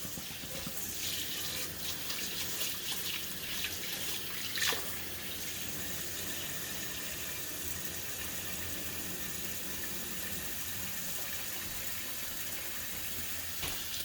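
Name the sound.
tap water running while washing basmati rice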